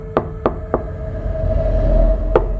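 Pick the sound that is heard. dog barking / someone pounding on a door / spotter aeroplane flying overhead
someone pounding on a door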